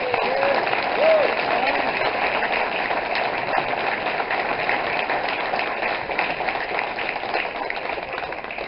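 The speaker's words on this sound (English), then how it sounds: "let's give him a big round of applause" Audience applause in a hall at a hall of fame induction ceremony: a dense, steady wash of many hands clapping that carries on evenly and fades slightly at the end, with a faint voice or two mixed in.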